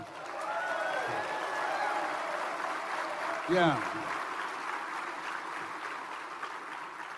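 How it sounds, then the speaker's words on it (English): An audience at a motivational speech applauds, a soft, fairly distant patter of clapping running throughout, while a voice briefly speaks over it partway through. "Give her a round of applause."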